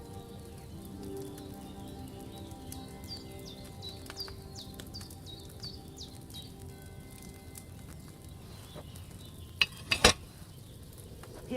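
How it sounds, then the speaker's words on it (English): Wine bubbling in a cauldron over a flame in Kingdom Come: Deliverance II, a low continuous simmering fizz with small pops, joined near the end by a few sharp clinks. "Hear that bubbling? It's boiling."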